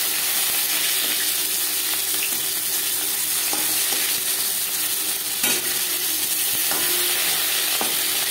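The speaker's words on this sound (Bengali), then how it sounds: "পরের মাছ একইভাবে ভেজে নিই।" Rohu fish pieces frying steadily in oil in a pan, a continuous close sizzle with occasional stirring clinks and scrapes.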